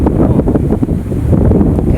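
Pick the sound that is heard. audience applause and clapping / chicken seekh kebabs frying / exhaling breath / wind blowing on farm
wind blowing on farm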